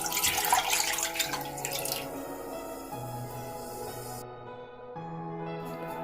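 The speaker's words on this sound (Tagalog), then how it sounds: "Pour the water." Water pours steadily into a cooking pot set over medium-high heat for boiling eggs, a continuous close splashing that fills the whole stretch with no voices.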